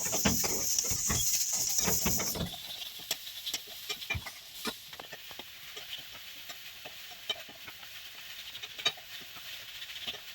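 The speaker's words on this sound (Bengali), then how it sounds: "নাড়তে থাকবো।" Grated coconut and jaggery are stirred in a pan for a coconut filling, giving repeated close scraping strokes that are busier early on and then settle into scattered softer scrapes and taps over a faint background hiss.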